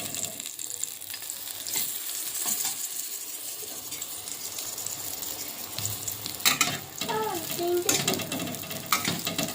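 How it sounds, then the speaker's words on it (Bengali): Eggplant slices fry in a pan with a continuous loud sizzle, broken by occasional scrapes and clinks of stirring. "বেগুন ভাজাটা হয়ে এসছে।"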